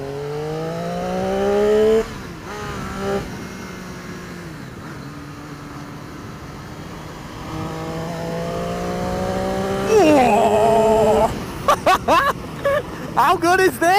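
A Triumph Street Triple 675cc motorcycle exhaust climbs through rising revs, gear after gear, with a throttle blip and a sharp crackling burst near the end, heard close behind a rider's ongoing talk.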